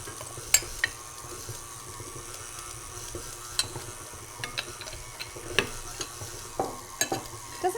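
A spoon stirs chocolate chips or raisins into gluten-free oatmeal cookie dough in a bowl, giving a soft continuous churning with scattered sharp clicks and taps against the bowl, close and unaccompanied by speech.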